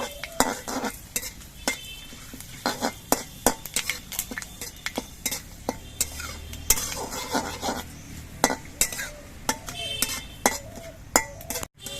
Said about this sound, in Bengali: এবার এই তেজপাতার মেথিটা একটু ভেজে নেব